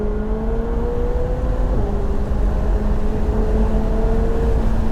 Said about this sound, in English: When third gear kicks in, the turbo spools, man, it's beautiful.